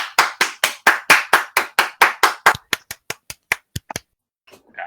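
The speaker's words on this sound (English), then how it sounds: "I feel like we always need to give a round of applause for a gaming episode" A single pair of hands claps steadily about twenty times, sharp and close, the claps growing sparser and softer before stopping, with no talking.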